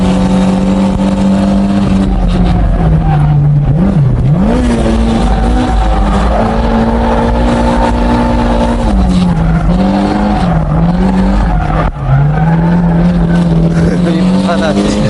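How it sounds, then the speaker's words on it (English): A drift car held at full throttle on M7 tires, its engine droning loud and steady with pitch dipping and rising as it slides, tire squeal mixed in, running continuously for about fifteen seconds. "I'm literally flooring it the entire way"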